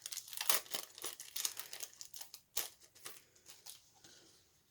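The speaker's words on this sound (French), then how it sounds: "Donc c'est le badge 38 mm. Je vais le déballer, ça sera mieux à regarder." A 38 mm badge is unwrapped from its plastic packaging, with close, crisp crinkling and tearing bursts in an irregular rhythm and no talking.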